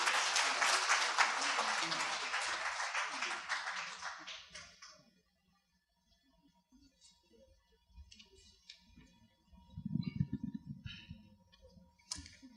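Dense applause from the audience at a 2013 university launch event for a Korean-language education program, loud at first and then fading out after about five seconds, followed by quiet clicks, shuffling and a brief murmur.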